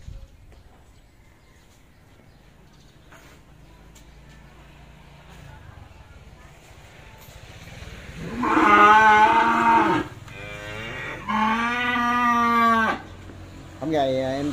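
Cattle moo loudly at a cattle farm in Tra Vinh, three long calls close by after a quieter stretch of low farmyard background noise.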